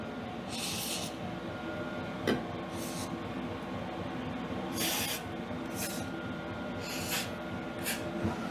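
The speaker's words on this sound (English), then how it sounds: "I'm going to get some lube down here" Lubricant sprays from an aerosol can onto a Yamaha 9.9 outboard engine in several short hissing bursts of about a second each, close and fairly clear over a low steady background hum.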